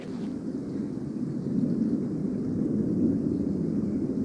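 An airplane passes overhead in a snowy, windy landscape, a low, steady, distant rumble that swells slightly and holds, with no talking.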